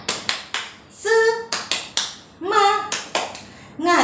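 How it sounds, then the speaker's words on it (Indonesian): A school class does a rhythmic spirit clap: sharp group claps in a steady pattern, three beats then a chanted call from many voices, repeated several times, loud and close. "Tepuk semangat."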